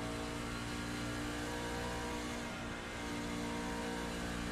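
A pickup truck engine in the iRacing Truck Series race at Daytona, running with a rough, uneven tone and droning steadily and loudly throughout without any talk.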